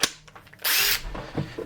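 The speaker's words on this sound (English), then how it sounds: "now I need to get my drill, put the battery in there," Cordless drill being readied for driving screws into a shower valve frame during a bathroom renovation, giving one loud steady whir of about a third of a second between quieter handling clicks and knocks.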